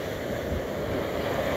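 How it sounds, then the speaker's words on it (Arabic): Ocean surf washes in a soft, continuous rush with wind noise across the microphone, steady and moderately faint with no voices. "هذه الأمواج"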